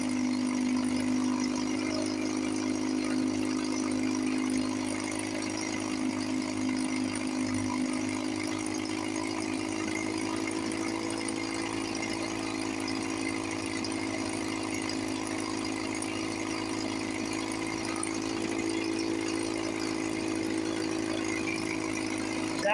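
A 1954 Johnson 5.5 HP outboard motor idles steadily with a continuous, even drone, fairly loud and close, holding the same tone with only slight wavering throughout.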